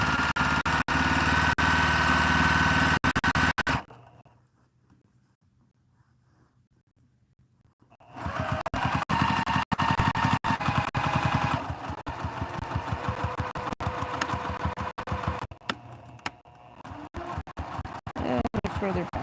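A quilting sewing machine runs loud with a fast, buzzing mechanical chatter, stops for about four seconds of near silence, then starts again and keeps running steadily to the end.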